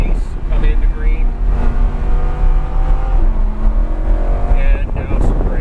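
A Lamborghini Huracan supercar pulls hard on a race track, its engine note climbing and holding loud and steady from inside the cabin, with wind buffeting and an instructor's voice talking over it.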